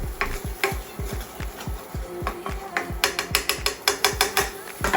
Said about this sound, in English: I don't know why I'm using a whisk